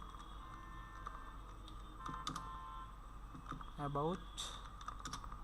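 Typing a prompt into ChatGPT on a computer keyboard, with soft scattered key clicks at close range beneath low background hum and brief speech, plus a few short electronic tones near the end.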